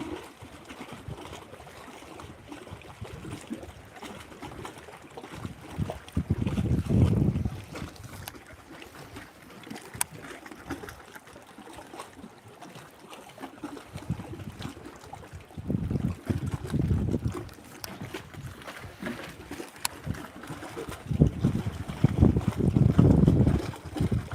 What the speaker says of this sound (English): Waves splashing in like a little cave in there.